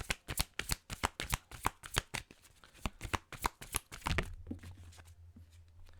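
Oracle cards being shuffled for a card reading, a rapid run of crisp riffling slaps and flicks, close and distinct, then settling into a low steady hum as the shuffling stops.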